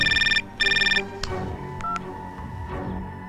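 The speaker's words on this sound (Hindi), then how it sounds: "चल मणि को फोन लगा।" A telephone rings twice in quick electronic trilling bursts, followed by a few soft clicks and tones against a quiet background.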